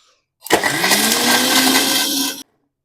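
A kitchen mixer grinder whirs loudly for about two seconds, starting abruptly and cutting off sharply, with a steady high-pitched motor whine.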